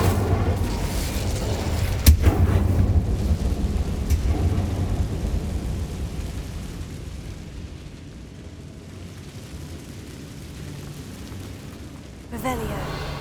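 An Incendio fire spell is cast in the Hogwarts Legacy video game: a loud rumbling blast of flame that fades slowly into a low roar, with a sharp crack near the start and a fresh swell at the end.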